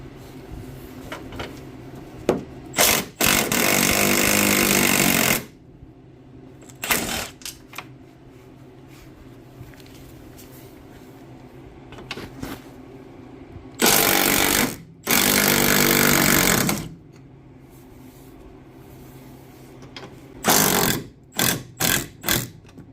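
Strut bolts are removed on a 2010 Jeep Compass front suspension, with loud rattling bursts of an impact tool in several runs of a few seconds each, separated by quieter workshop pauses.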